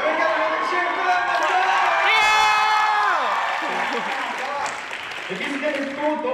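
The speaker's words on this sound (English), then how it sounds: "And we got another cheer for that" An audience at a Korean culture night cheers and whoops after a performance, a sustained wave of crowd noise and scattered applause with voices rising over it.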